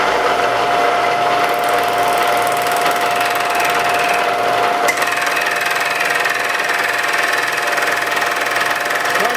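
A small cutter fitted with interchangeable triangular heads runs steadily through its final cut on a bandsaw sharpener build, a constant loud mechanical whine and hum with a brief knock near the middle and no talking.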